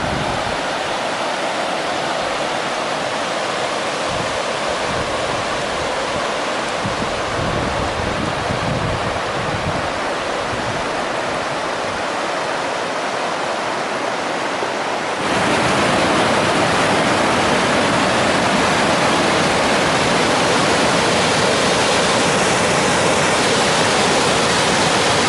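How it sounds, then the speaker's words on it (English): Rushing water of the Devil Track River along a sunny hiking trail, a steady broadband roar close by that grows noticeably louder and fuller partway through, with no talking. "listen to the sound of the Devil Track River"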